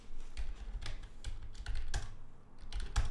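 Typing a root password on a computer keyboard during a software install, a few clusters of close, soft key taps with brief gaps, no talk.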